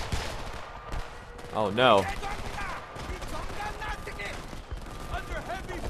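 Heavy gunfire rages in the war shooter Homefront, dense overlapping bursts of rifle and automatic fire that are loud and continuous. A brief spoken exclamation cuts in over the shooting.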